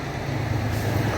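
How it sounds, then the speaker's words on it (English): A heavy truck rumbles by close up on the beachfront in Napier, giving a steady, loud, low engine roar. "Now I've got a noisy truck."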